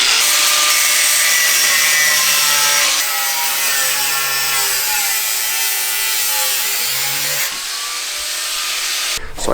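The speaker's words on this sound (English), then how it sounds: "So now the next thing is to chop off this huge ass, clunky Corsa muffler." A Corsa muffler being cut off a Mustang GT exhaust, a steady rasping saw stroke grinding loud and continuous through metal pipe, close up, with a brief pause near the end.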